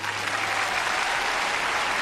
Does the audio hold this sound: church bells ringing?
no